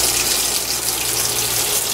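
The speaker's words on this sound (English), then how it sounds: "before I get ready to cook, I like to clean my hands really well" Kitchen sink tap running steadily as hands are washed before cooking, a close, continuous hiss and splash of water with no talk.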